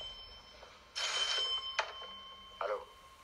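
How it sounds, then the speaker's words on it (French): A telephone bell rings in a few short bursts, at moderate volume over a quiet background hiss, playing in a French broadcast about film and television anniversaries. "le téléphone qui sonne"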